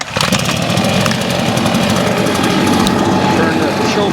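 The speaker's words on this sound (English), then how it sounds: "With the 150B, all you have to do is choke it here and then pull the starter switch." A 150B gas leaf blower engine runs loud and close with a steady rattling drone after starting, continuous to the end.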